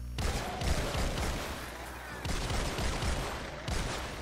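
Blasts from a Tigerjaw shotgun in Fortnite Save the World come in quick loud bursts, several heavy booms in a row, then a pause and another volley.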